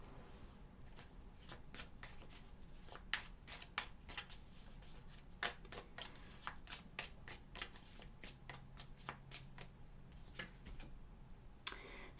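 A deck of cards is shuffled over and over. The riffles and snaps come as quick, crisp ticks in uneven bursts, close up but fairly quiet, with no talking.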